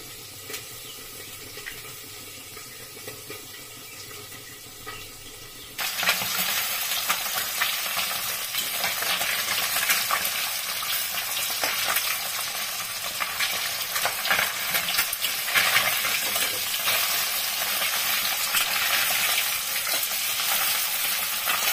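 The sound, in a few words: food frying and being stirred in pan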